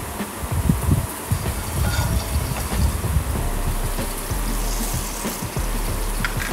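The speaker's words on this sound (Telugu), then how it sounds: "ఆయిల్ వేడైన తర్వాత శనగపప్పు, ఆవాలు వేసుకుందాం." Chana dal and mustard seeds sizzle and crackle in hot oil in a pan, a steady close frying hiss with scattered pops and no talking.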